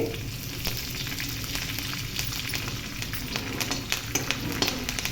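Green chillies and curry leaves frying in hot oil in a pan for semiya pulihora, a steady close sizzle with light crackles and stirring, no talk.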